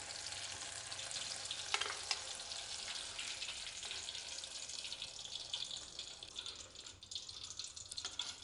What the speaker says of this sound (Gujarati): તો જે આપણે મરચાં સમારીને રાખેલા છે એ મરચાં પણ તળી લેશું.